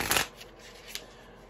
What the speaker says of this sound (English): I shuffle cards,